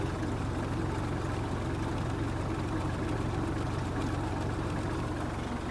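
A Kubota GL-200 Japanese mini tractor engine running in fourth gear, a steady, continuous low drone at constant loud level with no pauses and no talk.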